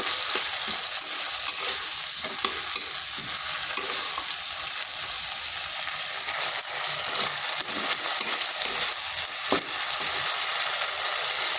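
Ginger and green chilli paste sautés steadily in a pan for a bitter gourd dish, a continuous close sizzle with repeated scraping stir strokes and no talking.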